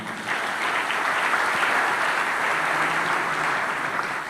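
A church congregation applauding: dense, steady clapping from many hands filling the room at even loudness for a few seconds, with no speech over it.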